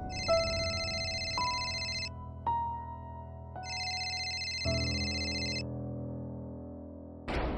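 An electronic phone ringtone plays close by in repeated tonal bursts with a steady chiming melody, ending in a short click.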